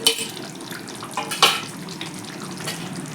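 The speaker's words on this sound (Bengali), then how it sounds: "এবার আমি ভেজে রাখা পনিরগুলোকে দিয়ে দিচ্ছি।" Fried paneer tipped into a wok of softened capsicum, a few clattering drops and stirring scrapes over a low background sizzle, close and moderately loud.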